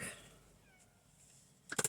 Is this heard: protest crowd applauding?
no